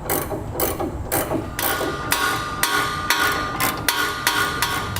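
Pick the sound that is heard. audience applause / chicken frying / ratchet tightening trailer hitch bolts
ratchet tightening trailer hitch bolts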